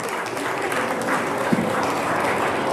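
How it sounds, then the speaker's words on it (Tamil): A big round of audience applause, a dense and steady wash of clapping from a crowd that holds at an even level throughout. "ஒரு பெரிய கரகோஷம் கொடுத்துடலாமா உங்களுக்கு?"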